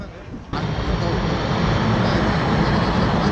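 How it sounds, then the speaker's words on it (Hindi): A drone flies overhead, giving a steady, loud whirring hum that rises suddenly after a brief quieter moment and then holds evenly with a broad wash of noise. "ड्रोन घूम रहा है उधर आप देख सकते हो"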